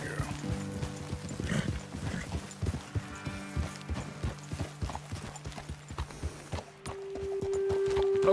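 Horse hooves clip-clop steadily in Red Dead Redemption 2 as riders approach a roadside ledge, with mechanical clicks and a brief whinny among the hoofbeats and a rising drone near the end.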